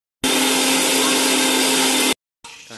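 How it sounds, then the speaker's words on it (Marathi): A mixer grinder blends tomato and onion in a loud, steady whir lasting nearly two seconds, then stops abruptly and restarts briefly. "टोमॅटो आणि कांदा मिक्सरमध्ये बारीक करून घेणार आहोत"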